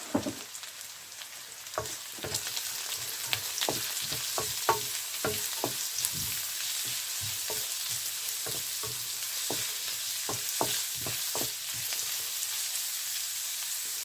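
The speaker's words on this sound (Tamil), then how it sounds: "இதை இப்போ கொஞ்ச நேரம் வதக்குவோம்." Onion, leeks and white cabbage sautéing in a pan for dried nethili fish fried rice, a constant hissing sizzle broken by regular scraping and tapping of a spatula stirring the vegetables.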